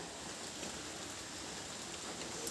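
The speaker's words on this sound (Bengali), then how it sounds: "বৃষ্টি হচ্ছে, কেমন আওয়াজ হচ্ছে" Monsoon rain falls steadily outside as a soft, continuous hiss of drops with no breaks, fairly faint and heard from indoors.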